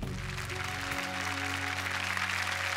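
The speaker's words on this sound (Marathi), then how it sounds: "तुमच्यासाठी सुद्धा जोरदार टाळ्या झाल्या पाहिजे." Loud, sustained applause from a studio audience at a Marathi television show, a dense steady wash of clapping with no gaps, over a low musical tone that drops out early.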